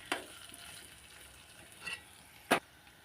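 Spiny gourd frying in a pan gives a soft, steady sizzle, broken by a few brief bright crackles or stirs, the sharpest one near the end, with no talking.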